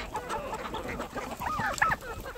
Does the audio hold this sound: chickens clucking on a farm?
yes